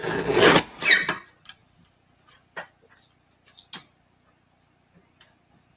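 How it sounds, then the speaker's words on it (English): A small paper guillotine slices through card, giving a short loud rasping cut up front followed by a few faint clicks and taps from the trimmer. "let me just grab my little guillotine. I'm going to trim this up a bit."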